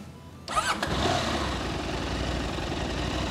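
A KTM 890 Adventure R two-cylinder motorcycle engine cranks and fires after a brief quiet moment, then settles into a steady, loud, close idle that runs to the end.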